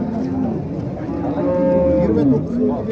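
Cattle at a livestock bazaar moo loudly and close, long drawn-out calls overlapping one another against a busy market hum.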